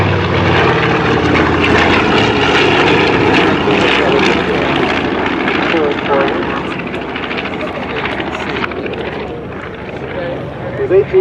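B-25 bomber propeller engines drone loudly as the aircraft passes in a WW2 weekend bombers and transports parade. The roar is strongest early and eases slightly later, with someone talking over it.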